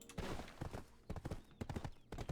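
Horse hooves clip-clop in Black Desert Online, a rapid uneven series of close hoofbeats in bursts with brief gaps between them.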